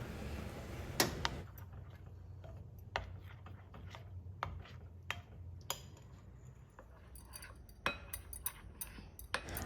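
A spoon stirs instant coffee powder into a melted brownie mixture in a bowl, giving light, irregular clinks and taps against the side, fairly quiet and spaced out, with no talking.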